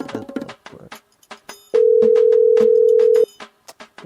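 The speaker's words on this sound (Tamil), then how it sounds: "ஒரு ஃபோன் பேசிக்கிறேன்" A telephone ringback tone sounds while placing a call, one long steady tone of about a second and a half, with clicks and faint background noise around it.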